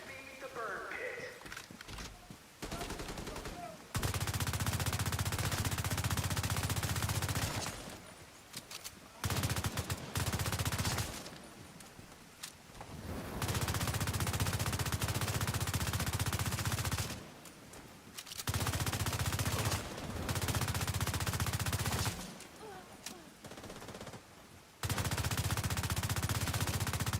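Gunfire in the video game The Division 2, sustained bursts of automatic fire that stop and restart with short gaps, loud and dense, with faint talk in the background.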